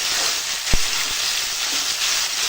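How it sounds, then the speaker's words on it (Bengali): Vegetables and soaked soybeans fry together in a pan, making a loud, continuous sizzle with a couple of sharp knocks from a utensil against the pan. There is no talk. "সয়াবিনটা দিয়ে একসঙ্গে ভাজবো"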